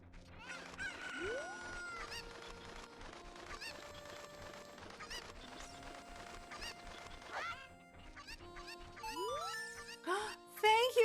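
Cuccos, the chicken-like birds of a video game, cluck and squawk in short bursts and rising calls amid game chimes and clatter, with louder flurries toward the end; a voice talks underneath.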